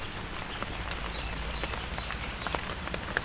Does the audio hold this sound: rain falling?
yes